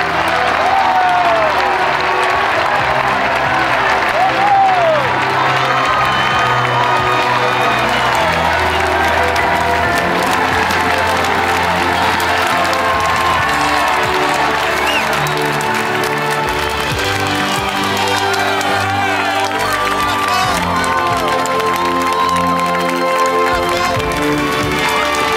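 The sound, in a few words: crowd applauding the arrival of explorer Nicolas Vanier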